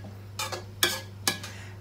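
Vegetables are sautéed in a pan with three distinct scraping stirs against a steady low hum, each stir a short swishing burst.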